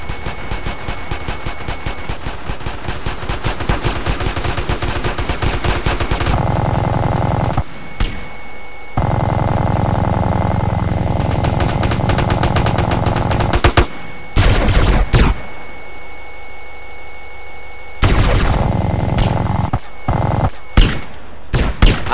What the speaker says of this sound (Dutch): gaat hij op je schieten